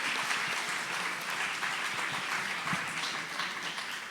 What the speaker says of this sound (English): So it's an extra applause.